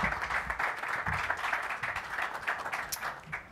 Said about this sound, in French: Je laisse la parole à M. Alain Carrier, que je vous invite à accueillir avec des applaudissements.